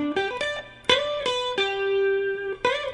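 Electric guitar picking an arpeggio one note at a time, each note struck cleanly and left to ring, with a slight distorted edge and an audible slide between notes, played slowly and alone.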